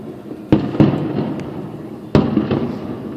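Fireworks bursting at a 4th of July show with brush fires burning nearby: three loud, sharp booms, two close together and one more after a pause, each followed by a crackling rumble that fades.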